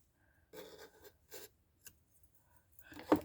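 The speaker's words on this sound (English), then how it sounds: "snip it, pull it out, and tighten it." Scissors snip crochet yarn at close range, a few quiet, brief cutting and rustling sounds spaced apart in a near-silent room, ending with one louder snip.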